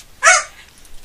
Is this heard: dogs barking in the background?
yes